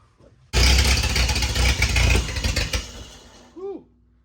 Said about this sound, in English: She's backfiring.